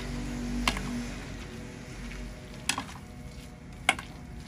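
A spoon mixing thick shrimp and lentil bora fritter batter, three sharp clinks against the bowl over a low, steady sizzling background, close by with no talk.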